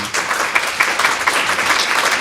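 Audience applause for the candidates at a Sarasota County School Board forum, a steady wash of many hands clapping at close range with no talk.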